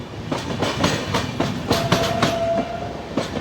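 The Sachkhand Express, running between Amritsar and Hazur Sahib Nanded, rolls along steadily with rhythmic clickety-clack of wheels over rail joints and a constant rumble, and a thin whistle-like tone rises briefly partway through.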